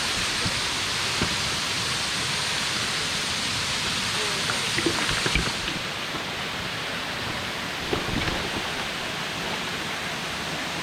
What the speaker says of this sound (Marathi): ओढा आहे थोडासा तो.